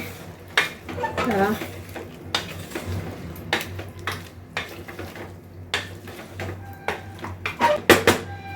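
Masala paste being stirred into biryani in a pot for a Bangalore military-hotel style donne biryani, with repeated clanks and scrapes of a metal spoon against the pot in an uneven rhythm, close and fairly loud, alongside faint background noise.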